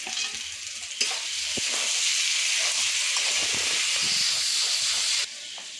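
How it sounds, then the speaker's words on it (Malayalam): Crushed garlic, ginger and green chillies hit a hot pan with a sudden loud hissing sizzle that holds steady for about four seconds, then cuts off abruptly. "ഒരു 10-12 വെളുത്തുള്ളി, ഒരു വലിയൊരു കഷ്ണം ഇഞ്ചി ചതച്ചത്. ഇതിൻ്റെ പച്ചമുളക് മാറുന്നവരെ വഴറ്റാം."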